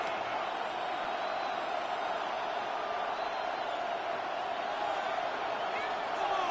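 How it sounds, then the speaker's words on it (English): A football stadium crowd keeps up a steady, broad roar of cheering and noise during a timeout before third and goal, constant and unbroken throughout. "This crowd doing all they can."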